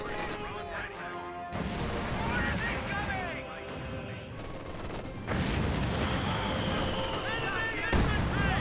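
Rapid gunfire and heavy artillery blasts from a Company of Heroes 2 battle, with repeated bursts and booming impacts layered over one another and ongoing game effects.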